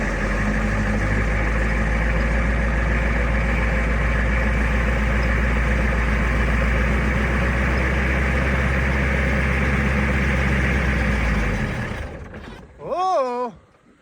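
A truck stuck in snow runs its engine in a steady, loud, low drone for about twelve seconds, then the engine cuts off and a brief rising whine follows.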